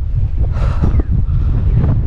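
Loud, steady wind buffeting the microphone in the Santo Domingo highlands of Batangas City, a continuous low roar filling the whole moment, no voices.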